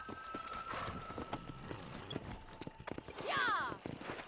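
Horse galloping in the Red Dead Redemption video game, rhythmic clip-clop hoofbeats under game ambience with a speaking voice, and a brief whinny-like cry near the end.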